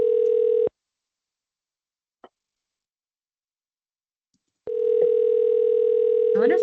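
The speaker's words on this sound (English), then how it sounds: "Sounds like someone's dialing in." A steady phone-line tone from someone dialing into a webinar hums loudly, then cuts off. After a single faint click, the tone returns.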